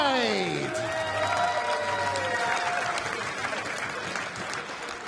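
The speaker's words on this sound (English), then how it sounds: "keep your applause going for Lorraine Hyde" Crowd applause and cheering at a darts world championship quarter-final swell just after a match win, then slowly thin and fade. Fading musical tones ring out at the start.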